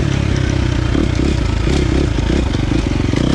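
KTM 350 XC-F dirt bike with a Vortex ECU tune idling low and rumbling on a tight wooded trail, a loud close steady engine pulse with clatter, no clear rev change.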